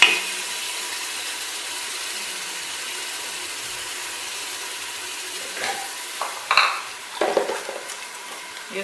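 Tomatoes and two green chillies frying in a pan with browned ginger and garlic, a soft steady sizzle with occasional stirring scrapes and clinks toward the end, no voices.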